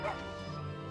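A small puppy mount in the online game Final Fantasy XIV gives a short high yip followed by a tonal whine, close and clear over faint background game music.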